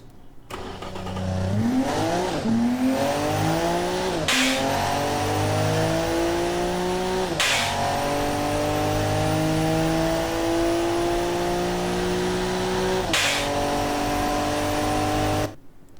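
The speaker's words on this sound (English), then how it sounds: "Kind of like the sound of a turbocharged inline-six in this game." A turbocharged inline-six car engine in the game Automation accelerates hard with rising revs, interrupted by about three sharp gear shifts, the pitch climbing again after each, loud and close.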